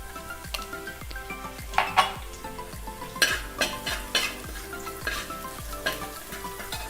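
Crushed garlic fries in a pan with salt for egg fried vermicelli, a steady sizzle punctuated by rhythmic clinks and scrapes of a spoon stirring against the pan, close and clear with no talking.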